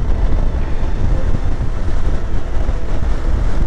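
Strong wind buffets the rider of a 2023 Honda Transalp XL750 motorcycle on the road, a loud, continuous low roaring rumble with no talk.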